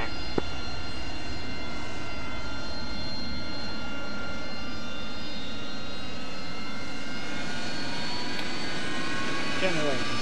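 A jet aircraft taxiing in the DCS World flight simulator, producing a loud, continuous engine roar with steady high whining tones throughout, and faint voices occasionally underneath.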